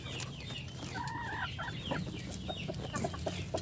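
Egg-laying chickens cluck steadily up close during an egg harvest, with short repeated clucks and calls over a busy barnyard background and no talking.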